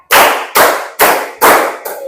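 Four loud, sharp bursts of hand clapping from a classroom group, evenly spaced about half a second apart, with the last one fainter, and no talking.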